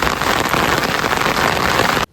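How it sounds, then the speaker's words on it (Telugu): Steady rain pours during the monsoon season, a dense continuous hiss of drops on surfaces, loud and close, running unbroken for about two seconds before cutting off. "మళ్ళా వర్షం కొడుతుంది"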